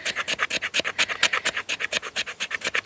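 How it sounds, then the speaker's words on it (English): Knife spine scraping down a stick of resin-rich pine fatwood tinder, a fast, steady run of about twenty close, crisp rasping strokes in an even rhythm. "just using just the back of the knife, or, you know, if you've got any kind of designated scraper, it's just a case now just scraping it down"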